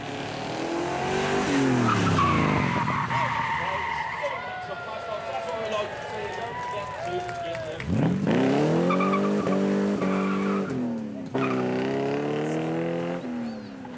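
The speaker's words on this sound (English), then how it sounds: "Usually by trying to turn rubber into smoke like this." A supercar does a burnout at a supercar weekend event at Beaulieu, spinning its tires into smoke. The tires squeal loudly and the engine revs rise and fall throughout, with crowd noise and talk underneath.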